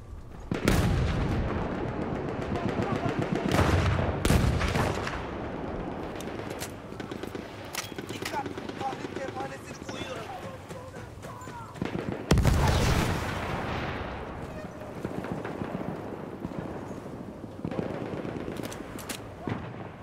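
Artillery and gunfire in the Battlefield 1 game, with heavy booming impacts and rapid machine-gun bursts, loud and close, with strong blasts near the start and midway.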